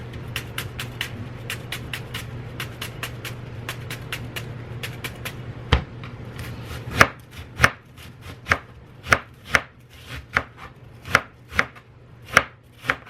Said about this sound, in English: I'm just going to chop up some onion to go in with the ground beef while I brown it